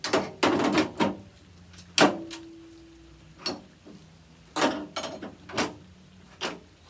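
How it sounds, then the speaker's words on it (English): Sharp metallic taps of a punch driving the door handle pin out of a 1948 Ford F-1 door, a handful of close, uneven knocks spread through a quiet workshop with short gaps between strikes. "Got my punch in there, and then I can press down on this side to let the pin out. Just tap on it, and there comes the pin."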